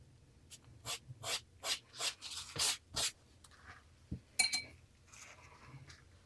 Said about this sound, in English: use paper napkin to remove pigment